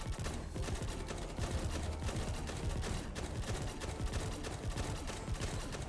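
Rapid, sustained gunfire from mech and artillery weapons in the post-apocalyptic war game Zombie Wreck: Mecha Warfare rattles continuously with dense overlapping shots and booming impacts, loud and unbroken throughout.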